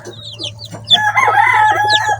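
Chickens cluck and squawk close by in a coop, a rooster-like call rising among them over a low steady hum.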